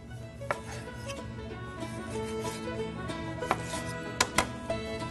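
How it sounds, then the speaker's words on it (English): A knife slices boneless chicken breast thin in the kitchen of Marco's Italian Restaurant, giving scattered soft chops and a few sharper knocks on the board over a steady humming kitchen background. "all we're doing is just cutting our boneless breast thin"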